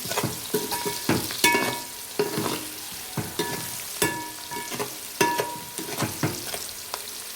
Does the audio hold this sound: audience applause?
no